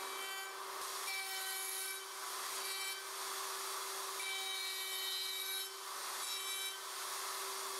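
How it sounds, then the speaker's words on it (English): A plunge router with a guide bushing cuts finger box joints into a wooden board through a Leigh RTJ400 template, a steady high motor whine with rasping cuts that rise and ease in regular passes. "route into every template opening, making sure the guide bushing stays in contact with both sides of each template opening"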